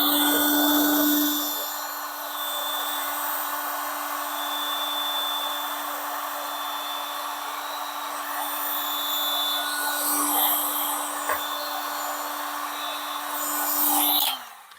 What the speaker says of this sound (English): Okay, heat gun, heat gun,